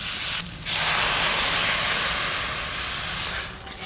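Water is poured into a pan of fried spice paste for an egg curry, setting off a loud, close rush of steam and hissing sizzle that cuts briefly, surges back and slowly fades, no talk.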